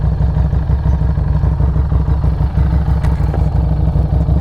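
A 2021 Harley-Davidson Street 500 motorcycle rumbles steadily while being ridden, its engine loud and continuous with a deep low throb and some wind noise, no speech.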